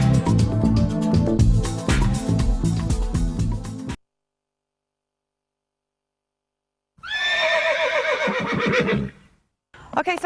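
A horse neighs loudly and close by, a long quavering whinny after a burst of music and a stretch of silence, followed by a short faint sound at the very end.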